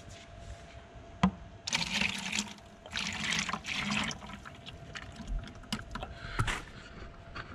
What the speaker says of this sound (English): Yep, and then we'll just pour that in the bucket.